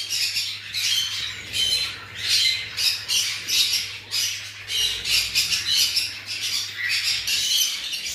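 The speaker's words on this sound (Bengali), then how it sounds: "এখানে আমার কাছে হিউজ পরিমাণ লাভবার্ড রয়েছে" Lovebirds at a bird market squawk continuously, a dense chorus of sharp, harsh calls from many birds close by, with a steady low hum underneath and no talking.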